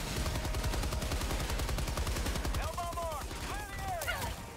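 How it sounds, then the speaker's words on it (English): Rapid machine gun fire from Helldivers 2 hammers away loudly in a dense, steady burst for most of the stretch, then thins out near the end, with whistling game sound effects cutting through the last couple of seconds. "Machine gun doesn't have to headshot these guys, but it does help if you do."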